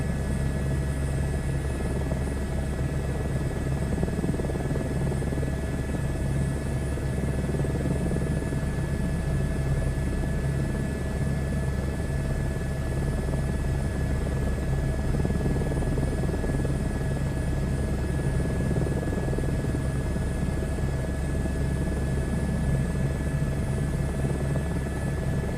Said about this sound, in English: I don't want this helicopter ride to end.